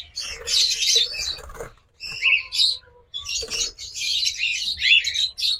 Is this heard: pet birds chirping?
yes